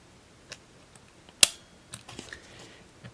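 A Rollei 35 film camera shutter firing at 1/250th of a second gives a single sharp, crisp click, close and quiet, amid a few faint small mechanical ticks from handling.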